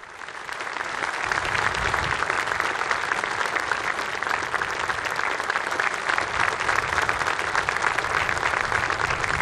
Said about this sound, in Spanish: Este es el aplauso que recibe la presidenta de Eslovaquia después del el discurso que ha pronunciado delante del Santo Padre